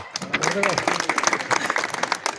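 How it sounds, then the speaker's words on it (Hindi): Applause rises from an audience at a stage event, the dense clapping building under a voice calling a guest up to the stage. "तालियां"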